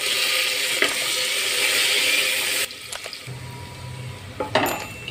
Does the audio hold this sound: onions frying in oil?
yes